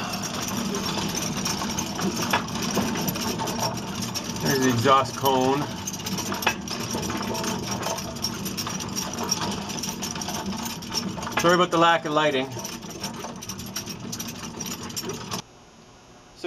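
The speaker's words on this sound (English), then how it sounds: "let's see if we can get a look at the turbine while it's coasting down" An Orenda 14 turbojet turbine coasting down in a shop, a continuous mechanical whir and rattle that cuts off near the end, with someone talking over it.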